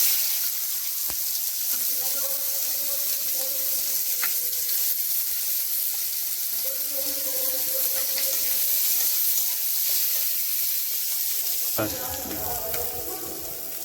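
Onion and red chilli fry in hot oil with black cumin (kalo jeere) for egg curry, giving a continuous close sizzle with stirring clatter and a brief louder burst near the end.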